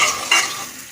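Rice being fried and stirred in a pan for beef khichuri, a scraping stir with soft sizzling that swells briefly midway and then fades, close up, with no voices.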